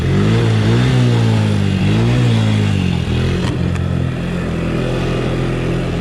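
Honda FourTrax four-wheeler engine running steadily while riding a trail, a loud close droning rumble that rises and falls slightly with throttle, with no talk.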